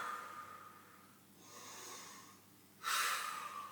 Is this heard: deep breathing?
yes